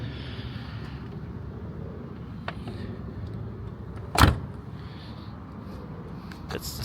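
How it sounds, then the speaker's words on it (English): A single solid door thunk from a Mercedes SL 500 R129 car lands about two-thirds of the way through, close and brief, over quiet background noise with a couple of faint clicks. "That's the sound of a door."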